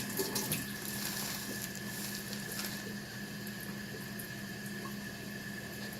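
Water runs steadily from a sink tap in a lab while it warms up, a soft, constant hiss and splash with a faint hum underneath.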